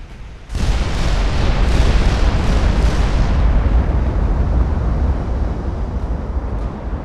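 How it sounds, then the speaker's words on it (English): An ammunition detonation blows up a warship in the naval game Ultimate Admiral, a sudden loud blast followed by a long roaring, rumbling tail that slowly fades, heard alone. "Ammo detonation."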